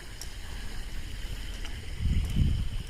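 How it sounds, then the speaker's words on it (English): Wind gusting through a park in Tokyo in the early morning, a steady low rumble against the microphone that swells louder near the end, with no voices. "Some wind is blowing right now."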